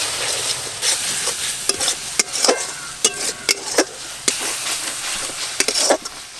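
Masala spices with turmeric and salt sautéing in a pan for chicken kosha, a steady sizzle with repeated sharp scraping strokes of a spatula against the pan throughout.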